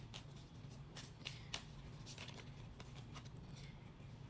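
Tarot or oracle cards are shuffled by hand, making a soft, steady riffling and sliding with a few sharper flicks, close and quiet over a low background hum.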